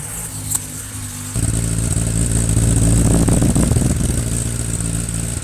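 A Kawasaki Ninja ZX-10R superbike cold-starts at home. After a second of quiet the engine catches suddenly and settles into a loud, rough, steady running note close to the microphone.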